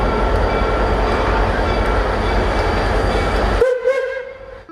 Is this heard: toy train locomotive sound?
yes